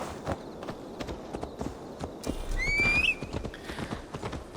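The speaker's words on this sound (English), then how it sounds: "Ah, they left me a horse" Horse hooves clopping irregularly at close range in Assassin's Creed Valhalla, joined briefly by a high whinny partway through.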